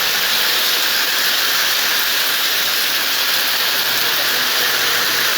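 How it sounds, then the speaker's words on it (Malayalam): Heavy evening rain pouring down in a dense, unbroken hiss, loud and close, steady from start to end with no voices. "തുള്ളിക്കൊരു കൂടം പേമാരി പോലെ മഴ ഇങ്ങനെ ആർത്തലച്ച് സന്ധ്യയോടടുത്ത് മഴ ഇങ്ങനെ ആർത്തലച്ചെത്തിയിരിക്കുന്ന ദൃശ്യങ്ങളാണ്"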